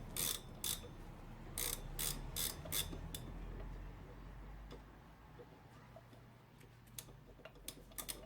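Ratchet removing a single bolt on a Classic Mini engine, several short bursts of close clicking separated by pauses, over a low background hum.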